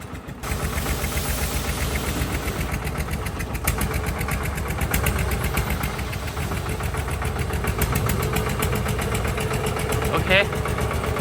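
A tractor engine chugs steadily while the tractor reverses, a close, rough mechanical rumble running throughout, with a brief high squeal near the end.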